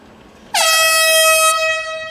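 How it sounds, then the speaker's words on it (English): A loud air horn blares to signal the end of a round at an LFA women's MMA bout, one sustained tonal blast starting abruptly and holding steady for about a second before fading into arena ambience. "Horn sounds and Demopoulos stumbling back to her corner."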